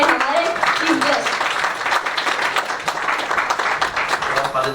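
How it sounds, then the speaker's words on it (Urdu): An audience at a science and arts exhibition applauds as the chief guest is invited up, dense sustained clapping from many people with voices mixed in underneath. "تو آپ سب کی بھرپور تالیوں میں ہمارے چیف گیسٹ"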